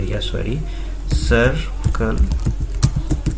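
Quick clicks of typing on a computer keyboard while entering C code, a run of sharp keystrokes tapped under a voice speaking Hindi throughout.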